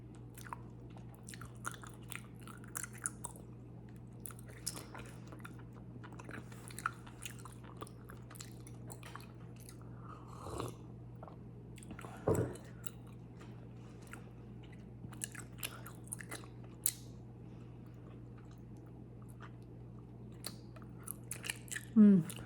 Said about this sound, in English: feel like you have to chew bubblegum type gum for a little while before you can blow a bubble